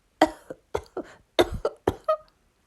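Six sharp coughs in quick, uneven bursts, close and fairly quiet, with short silences between them.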